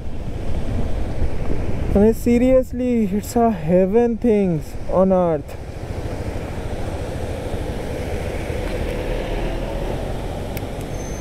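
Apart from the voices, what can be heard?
waterfall rushing down a mountainside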